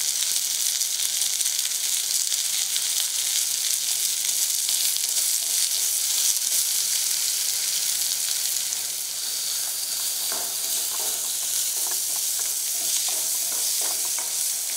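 Onions sautéing in a pan for chutney, a steady broad sizzle hissing continuously with faint scraping stirs toward the end, no voices.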